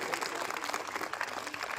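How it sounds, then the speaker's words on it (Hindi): Audience clapping at a school annual sports day celebration, honouring a great footballer, a dense, steady patter of many hands close by, continuous through the short stretch. "बोलो सारे जोर से एक बार तालियां बजाओ उनको"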